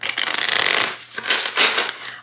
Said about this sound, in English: if anyone is horrified by me riffle shuffling gilded decks, just look away, fast forward